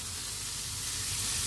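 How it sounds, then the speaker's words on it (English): Butter sizzles steadily in a hot pan while scrambled eggs are being prepared, a continuous close crackling hiss without any speech. "butter sizzling over there."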